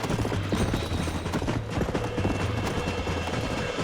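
Galloping horses in the video game Red Dead Redemption: a dense, rapid drumming of hooves that continues without pause, loud and close, over a low rumbling background.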